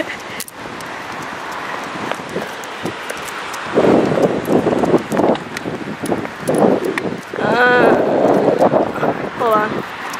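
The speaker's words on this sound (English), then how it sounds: "It's really windy." Wind gusts buffet the microphone outdoors in a park by a river in a steady rumbling roar, with people talking over it and occasional rustling.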